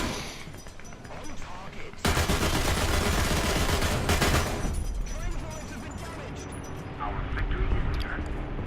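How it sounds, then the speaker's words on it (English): Heavy gunfire booms in a tank combat game, with a loud, sustained blast and rumble that slowly fades into engine and battlefield noise. "No idea where that shot came from"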